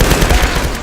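Rifle fire in the Tomb Raider video game, a loud, dense burst of rapid shots packed closely together, close and filling the whole brief moment.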